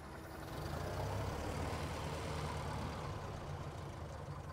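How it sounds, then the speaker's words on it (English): A 1927 Chevrolet, a former Toronto taxi, runs with a steady low engine rumble close by, its idle swelling slightly as the throttle is blipped, continuous and without speech. "Can you rev the engine a bit?"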